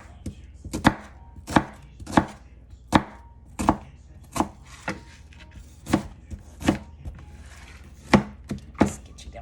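Onion being chopped finely with a knife on a cutting board, about fourteen crisp, sharp knocks in a steady but slightly uneven rhythm, close and clear with no talking.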